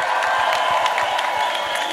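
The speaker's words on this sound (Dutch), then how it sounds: "Groot applaus voor Tije." Audience applause and cheering at a Dutch TV-style contest finale during a trophy presentation, a dense steady wash of clapping with crowd noise throughout, fairly loud and without talk.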